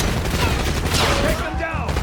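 Gunfire in the video game Call of Duty Black Ops 6, a dense loud fusillade of rapid machine-gun bursts with booming impacts filling the whole stretch, with a voice calling out briefly amid it.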